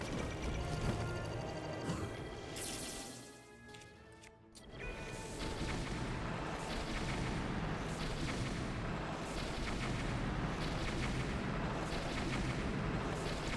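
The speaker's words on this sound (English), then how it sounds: "Look at all the explosions." Explosions and gunfire-like blasts in The Legend of Zelda: Breath of the Wild, Master Mode, form a dense, loud, continuous roar of booms with a short lull midway.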